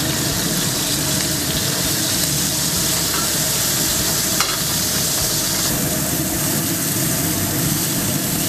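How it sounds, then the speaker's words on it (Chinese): Seasoned scallops sear in a preheated hot pan, producing a loud, steady, unbroken sizzle throughout. "同时调味完就直接下锅煎"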